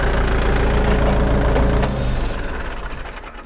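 A DTZ 504 tractor engine idles with a loud, steady diesel rumble and knock, then winds down and fades as it shuts off, with no one talking over it.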